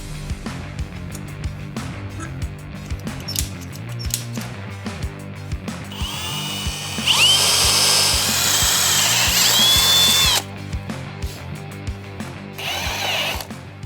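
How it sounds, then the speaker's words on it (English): A power drill bores a hole for a headlight housing spacer on a Yamaha TRI-Z 250. Intermittent clicks and handling noises lead into a loud, steady whine of about three seconds, followed by a second brief burst. "I'm going to drill a hole here"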